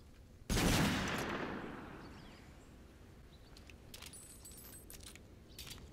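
A single loud shot blasts from akimbo .44 Magnum handguns in a video game, its roar decaying over about a second, followed by quieter mechanical reload clicks and rattles.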